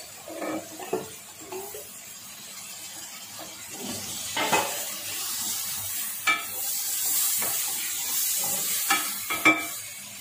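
Malabar spinach stems being stirred with dried fish in a cooking pot, giving soft scraping and a gentle sizzle with a few sharper utensil clinks, alone with no talking.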